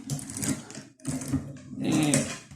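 A Melva sewing machine stitches in quick, loud bursts of rapid mechanical chatter, stopping briefly between runs of three close-up spells of sewing.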